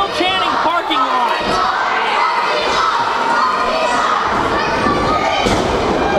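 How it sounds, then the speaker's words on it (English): Wrestling arena crowd chanting and shouting during a main event, a loud dense roar of voices with thuds from the ring, steady throughout. "The crowd is still chanting parking lot."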